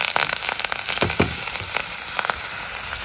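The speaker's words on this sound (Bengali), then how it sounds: "মাছ ভাজা তেলে আমি ডাটার তরকারিটা রান্না করে নেব। পেঁয়াজ কুচি দিয়ে দিচ্ছি" Chopped onions sizzle in oil left over from frying fish, the start of a vegetable-stem curry; a dense, steady crackle runs close and loud throughout, with sharper spitting pops scattered across it and no talking.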